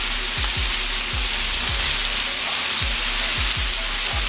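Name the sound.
bacon frying on a Blackstone griddle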